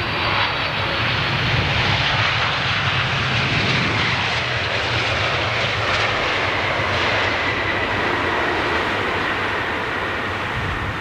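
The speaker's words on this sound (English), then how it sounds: "this is the last arrival for 27 right, 2 parallel runways here at London Heathrow" A fixed-wing aircraft arriving on runway 27 right at London Heathrow roars steadily and loudly throughout, a broad continuous engine rumble with no talking.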